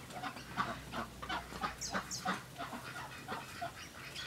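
Ducks and chickens in a duck pen in Brisbane give repeated close clucks and quacks, a busy, irregular run of short calls over faint background noise.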